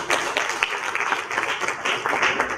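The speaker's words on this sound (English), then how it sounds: "So one round of applause for Samar." Audience applause at a book publication ceremony for a diplomat's memoir, a steady wash of many hands clapping at close range with no voices over it, holding level through the short stretch.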